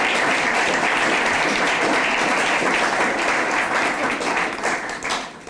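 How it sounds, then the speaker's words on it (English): Sustained, dense applause from an audience at a gala, loud and steady throughout before thinning slightly at the very end. "may we get a very resounding applause"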